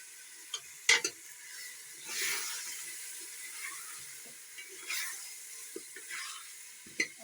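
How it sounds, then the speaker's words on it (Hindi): Meat with half a teaspoon of turmeric fries in a pan for gourd and mutton curry, giving a soft steady sizzle with surges of hiss and a few sharp clicks and scrapes of stirring, without talk. "10 से 15 मिनट भून लेंगे"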